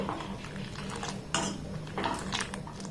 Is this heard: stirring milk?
yes